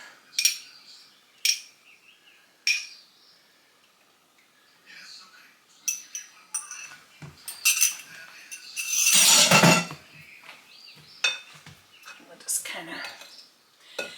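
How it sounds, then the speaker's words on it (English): A utensil clinks and taps against a bowl while egg yolks are broken up and stirred, in short scattered strokes with a brief burst of faster scraping midway. "I'm just going to kind of break the yolks up and stir them up a little bit to make it easier to mix it in."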